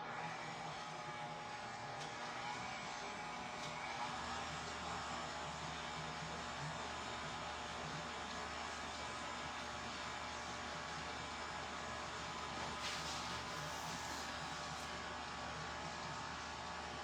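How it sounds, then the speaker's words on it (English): A mixer runs steadily while dough for slider buns is mixed, giving a faint, continuous whirring hum with slight variations and no talking. "We're putting this in the mixer."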